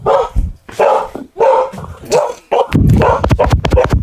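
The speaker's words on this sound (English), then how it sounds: "My dog is excited for the 4th of July." An excited pet dog indoors gives a series of loud, close barks and yips in quick bursts, with scratching and some whimpering noises mixed in.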